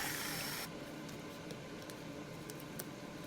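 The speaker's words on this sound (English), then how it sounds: "So let me spray that." A short, close hiss of alcohol sprayed onto a resin mold opens, lasting under a second, followed by quiet room noise with a few faint ticks.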